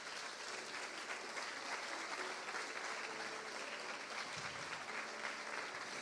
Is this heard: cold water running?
no